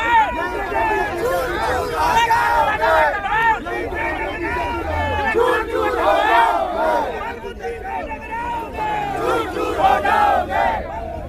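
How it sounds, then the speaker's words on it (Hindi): A large crowd of protesters from the Savarna community chants slogans loudly and continuously, with many voices shouting together in a rhythmic, close, angry roar. "देर में एक बड़ा प्रदर्शन हो रहा है स्वर्ण समाज का, जो कि काफी आक्रोश में दिखाई दे ही जा रही है"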